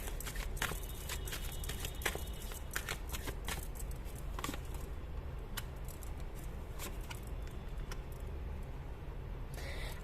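Tarot cards shuffled close and continuously, a dense papery riffling with frequent crisp flicks, steady throughout with no talk.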